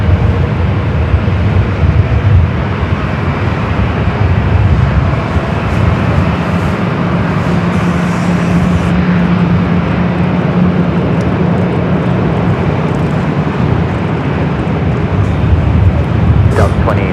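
A Boeing 787 Dreamliner bound for Warsaw rolls for takeoff on runway 24L at LAX, a loud, continuous broadband jet-engine roar that holds steady throughout and drowns out its surroundings.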